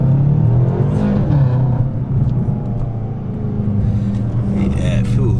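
A BMW M5 engine with decat downpipes rumbles loudly and deeply up close, holding a throaty low drone with slight shifts in revs and a faint voice underneath.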